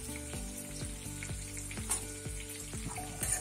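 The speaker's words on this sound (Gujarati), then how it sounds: "ગ્રેવી માટે એ જ તેલમાં હું અહીંયા ડુંગળી સાતડીશ." Three or four onions sautéing in oil for a kaju curry gravy, a steady close sizzle broken by repeated sharp scraping knocks of a spoon stirring against the pan.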